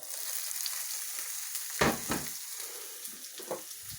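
Capsicum dropped into a hot pan while cooking chicken and vegetable noodles, bursting into a loud sizzle that settles into steady frying hiss with a few sharper crackles and stirring scrapes, close and without talk.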